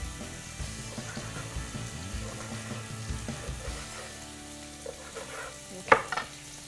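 Bacon crisps in a pan, a soft, continuous sizzle and crackle heard up close with low stirring scrapes and a sharper clatter toward the end.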